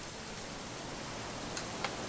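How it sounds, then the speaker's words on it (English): Steady rain falling in the video game What Remains of Edith Finch, a soft, even hiss throughout with a couple of brief droplet taps near the end, no talking. "It's gonna rain the whole weekend, isn't it?"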